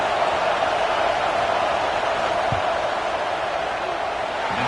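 A large football stadium crowd roars during a field goal attempt in a Notre Dame versus Boston College game, giving a dense, steady wash of distant cheering and noise with no clear breaks.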